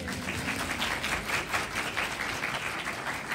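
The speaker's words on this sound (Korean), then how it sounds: "박수 한번 주시죠" An audience at a film screening Q&A claps with director and actors, moderately loud and steady throughout, with no talk on top.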